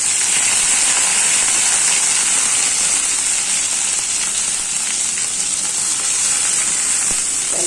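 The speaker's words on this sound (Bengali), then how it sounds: "বিসমিল্লাহ, কড়াইটা বসাই দিলাম, দিয়ে দিচ্ছি তেল" Oil heating in a kadai (wok) on a stove sizzles and crackles steadily and loudly throughout, close by and without pause.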